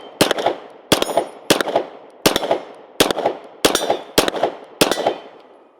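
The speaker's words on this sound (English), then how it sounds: "Let's take a few more shots with it just with iron sights" Seven sharp Beretta 92X pistol shots fired with iron sights, spaced at a steady, unhurried rhythm, each a loud crack followed by a brief ringing echo, with no talk between them.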